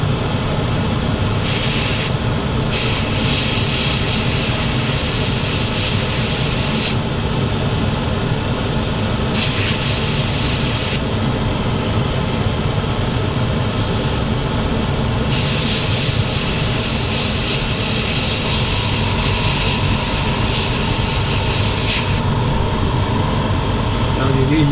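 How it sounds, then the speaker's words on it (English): An airbrush sprays paint onto a Takom 1/35 Weasel model tank kit, making a loud, steady, continuous hiss that runs unbroken throughout. "You can see I'm spraying where I'm spraying really."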